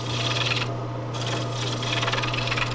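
A wooden baluster being cut on a lathe with a turning tool: a steady, close, abrasive scraping and rasping over a constant motor hum, continuous with slight pulsing and no talking.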